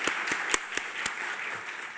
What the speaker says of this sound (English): I think we can give everybody a round of applause again for the work they've done so far